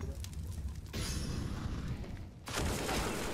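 Gunfire in Counter-Strike: Global Offensive during a Godsent vs BiG IEM Winter 2021 match, with dense bursts of rifle shots and booming impacts that shift in loudness over a few seconds.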